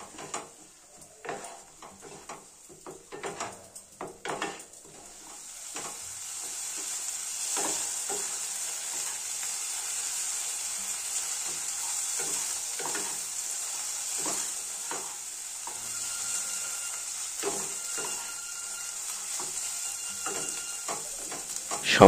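Cashew-poppy paste and spices being stirred and fried in a pan for doi katla, with a soft steady sizzle and irregular clinks and scrapes of a spoon against the pan, close and without talk.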